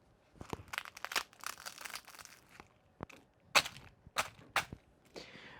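Crunchy crust of a traditional Greek spanakopita spinach pie being bitten, a series of sharp, close crackling crunches in irregular bursts with short pauses, fairly quiet and with no talking.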